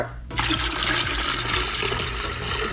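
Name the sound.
liquid poured from pot into pitcher for soursop wine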